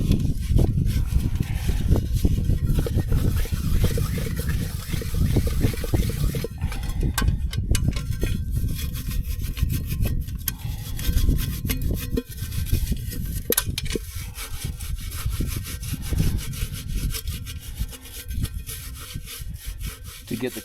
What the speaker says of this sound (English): see if we can give that pot a little scrub before it goes back in the backpack